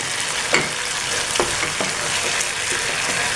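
A clove of local garlic fries in a pan for Egyptian ful, a constant bright sizzle interrupted by a few soft scrapes and taps as it is stirred, close and without voices.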